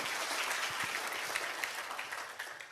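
Audience of over a thousand people at a business seminar breaks into dense, steady applause, a continuous wash of clapping with no voices over it.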